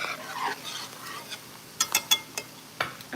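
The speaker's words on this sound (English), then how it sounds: "Now I'm going to go ahead and add in my beef broth. Stirring," Stirring beef broth into a dish in a pot during dinner cooking, a series of short scraping and swishing strokes in the second half over a low sizzle, close by, with no voices.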